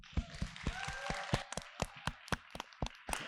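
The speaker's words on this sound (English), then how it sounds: "Come on, give them a better round of applause" Sparse, scattered clapping from a small audience at the Macondo LitFest 2024 literary festival in Kenya, a few distinct hand claps spaced irregularly, fairly faint, with a brief tonal sound partway through.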